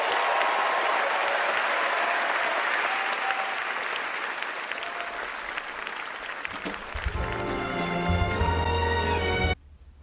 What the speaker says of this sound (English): If you could all please together join me in a big round of applause